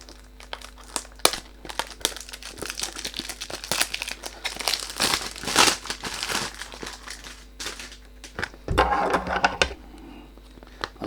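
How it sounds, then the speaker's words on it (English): Crinkly plastic packaging on a Sapil Nice Feelings Black perfume box crackles and rustles almost continuously during unboxing, close and fairly loud with bursts of sharper crunching. "When you do unboxing, you can't do anything about the noise"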